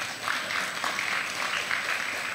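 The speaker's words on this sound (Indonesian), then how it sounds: "Tepuk tangan." A church congregation claps in a burst of dense, even applause, moderately loud and continuous throughout.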